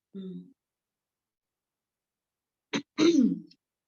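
A brief throat sound early, then after a pause a short cough followed by a harsher throat clearing from a yoga teacher during an online class, close and distinct in an otherwise quiet room.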